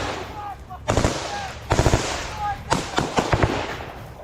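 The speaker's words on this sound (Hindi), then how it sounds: "कहीं जमीन पर लेटकर फायरिंग की जा रही है यूक्रेन के टारगेट पर।" Gunfire during a Ukrainian counterattack in Bakhmut comes as several short, sharp bursts of rapid shots separated by brief pauses, fairly close and loud.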